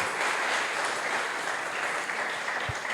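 A church congregation applauding, a sustained wash of many hands clapping evenly throughout, with a single low thump near the end.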